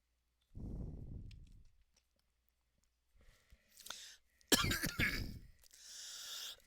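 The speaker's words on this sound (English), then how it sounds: "Sorry for coughing" A person coughs once, close to the microphone, a short rough burst followed by a trailing exhale, then silence before clicks and some sharp rustling noises.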